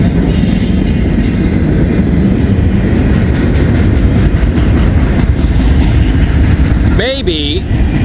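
A loud train rolls past close by in Elmwood Place, with rhythmic wheel clatter, ending in a high, wavering squeal of wheels on rails.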